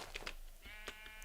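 A sheep bleats in Minecraft, a short wavering nasal call heard twice in quick succession over steady game background noise.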